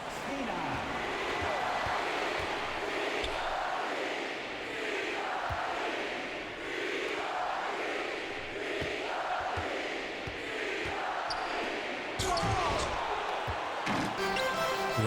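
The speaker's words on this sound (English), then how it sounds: "how about we listen to this MSG crowd?" In the NBA 2K22 basketball game, the Madison Square Garden arena crowd roars in swelling waves, with ball bounces, squeaks and brief calls mixed in, and a commentator's voice partly under the din.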